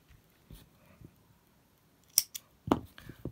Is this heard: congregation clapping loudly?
no